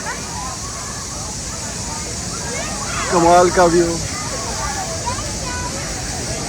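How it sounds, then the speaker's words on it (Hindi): Water rushes steadily at a waterfall in Antalya, Turkey, a constant broadband roar beneath people talking, with a louder burst of voices midway. "तो एंजॉय करने लगे यहाँ की वाटरफॉल।"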